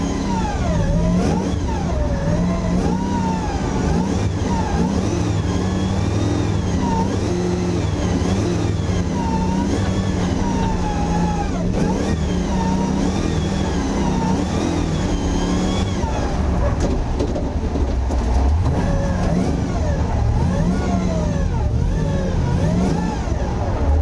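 A 525 bhp LS3 V8 in a Nissan PS13 drift car with Wisefab steering, loud and close, holds a steady throttle roar with rising and falling revs throughout.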